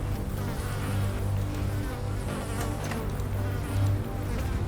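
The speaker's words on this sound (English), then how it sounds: "God, listen to the flies buzzing everywhere." Flies buzz loudly and continuously around a reeking junk pile in the video game Underrail, a dense steady drone that swells slightly now and then.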